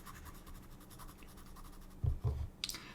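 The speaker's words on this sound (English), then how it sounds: "I kind of shade with the side of the pencil" Pencil shading on sketchbook paper for a lion's mane drawing: quiet, close scratchy strokes in a soft repeating rhythm, ending with a few firmer taps and scrapes.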